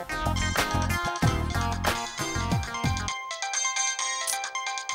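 A phone ringtone plays loud and close as a bright, repeating melodic electronic tune that runs continuously.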